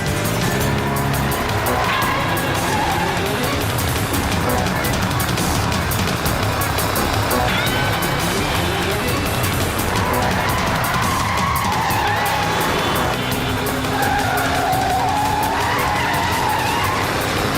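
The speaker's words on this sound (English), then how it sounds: "Slow the car down, I'm scared. It's not working. We've got no brakes." A speeding car with failed brakes skids hard, its tires squealing repeatedly over a loud, constant engine and road roar that lasts the whole stretch.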